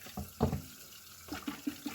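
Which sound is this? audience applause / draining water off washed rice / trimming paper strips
draining water off washed rice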